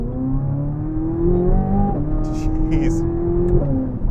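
A 2023 Corvette Z06 engine revs close by with rising and falling tones, climbing and dropping in pitch several times. Someone talks over it and gives a brief exclamation.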